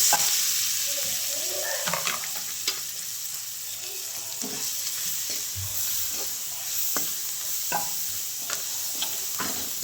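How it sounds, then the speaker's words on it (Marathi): Steady sizzling hiss of a ground spice paste frying in oil with crackled mustard seeds and cumin, with intermittent scraping and stirring clicks of a spoon against the pan, no voices. "थोडंसं आपल्याला चांगलं परतून देते"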